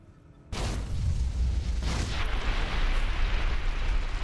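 Grenade blast in Fallout New Vegas after a brief quiet moment, a sudden loud boom followed by a long, heavy rumbling roar that keeps sustained energy without fading.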